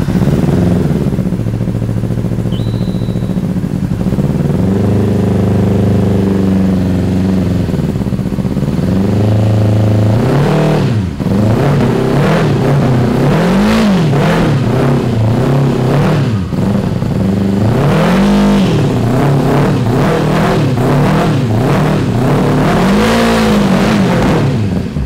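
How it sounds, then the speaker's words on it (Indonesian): A racing motorcycle engine idles roughly during a cold start, then is blipped in repeated short revs that rise and fall in quick succession, loud and close, with no talking. "karena masih cold start jadi nggak bisa digas tinggi-tinggi"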